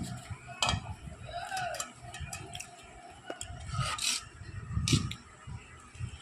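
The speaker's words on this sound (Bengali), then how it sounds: "এইভাবে তেল ব্রাশ করে নেব।" Soft rubbing and scraping as oil is brushed onto a leaf for Bengali fish paturi, faint intermittent strokes with small clinks of utensils, close by under occasional speech.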